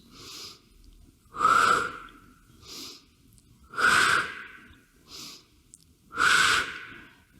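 Rhythmic heavy breathing during a home workout, three loud forceful breaths with a whistling edge alternating with softer ones, close to the microphone with no talking.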